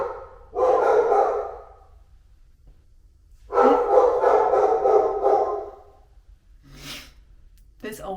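Dogs shut in their crates at home let out two long bouts of muffled barking and whining, with quieter gaps between and a short burst near the end.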